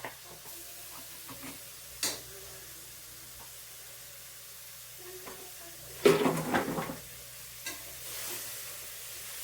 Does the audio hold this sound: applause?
no